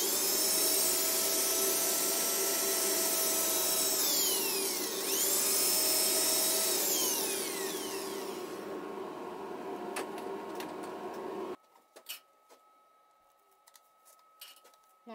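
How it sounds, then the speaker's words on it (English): A wooden lidded box spinning on a woodturning lathe while abrasive paper works its surface, giving a steady whirring hum with shifting tones. The motor then winds down and cuts out, leaving quiet clicks and light handling noises. "So I'm going to sand starting with 180, then 220, then 320."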